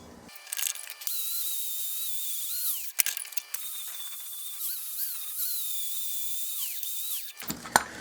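A belt sander grinding a metal tool rest gives a steady high, whining grind that runs for several seconds, drops out briefly around the middle, then resumes and ends in a few scraping bumps.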